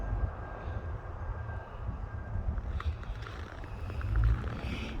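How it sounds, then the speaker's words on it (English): Strong wind on a cold, windy morning in northern Alberta, a steady low roaring rush with gusty swells, loudest near the end and buffeting close by. "it's a very windy morning."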